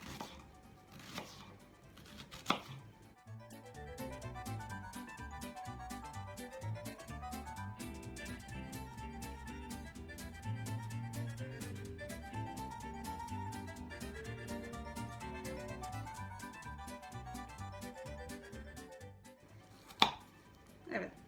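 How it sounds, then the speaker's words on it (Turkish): A knife chops onions quickly and rhythmically on a cutting board, a long run of crisp, even taps with a couple of louder knocks near the start and end. "Şimdi hepsini tek tek doğrayalım."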